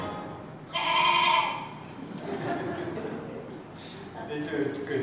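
A goat in a charity appeal gives one loud bleat near the start, then quieter bleating sounds follow under a voice speaking.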